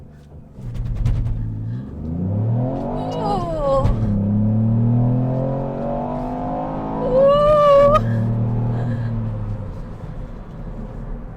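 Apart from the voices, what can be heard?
Ford Fiesta ST launch control acceleration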